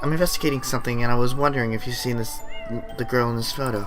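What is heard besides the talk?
cat meowing in the video game Tokyo Dark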